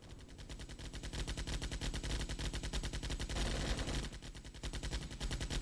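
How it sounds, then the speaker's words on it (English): Rapid, continuous bursts of automatic gunfire crackle through a video game firefight in the Armored Brigade wargame, dense and rhythmic with a short lull near the end. "Pretty good firefight developing over here."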